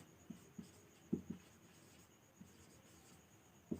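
A pen or pencil scratches across paper while a maths solution is written out by hand, with soft, close strokes and taps coming in short irregular bursts amid quiet room tone.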